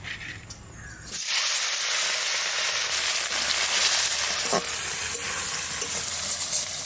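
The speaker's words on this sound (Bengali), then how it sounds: "মাছগুলো ভাজবো তেল দিয়ে দিচ্ছি প্রথমে ট্যাংরা মাছগুলো ভাজবো" Small tengra river fish frying in oil, a loud, steady sizzle that bursts in after a quieter first second and then holds continuously, close up, with no talking.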